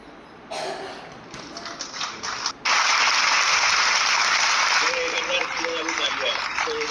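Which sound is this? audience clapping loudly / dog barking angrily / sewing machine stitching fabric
audience clapping loudly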